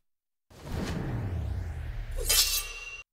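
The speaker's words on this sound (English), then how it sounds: "And then we have this sword sound right up here." A film sword sound effect, a sustained swishing metallic sweep that swells and ends in a bright glassy clink and shimmer, loud and alone.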